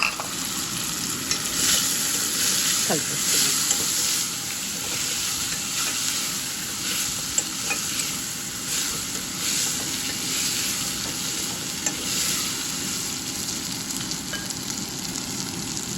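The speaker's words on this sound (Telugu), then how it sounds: "నేను ఇప్పుడు కట్ చేసి పెట్టుకున్న దోశ ముక్కలు వేసేసి" Cucumber pieces for a cucumber tomato curry fry in a pan, giving a loud, continuous, even sizzle that runs steadily throughout, with no speech.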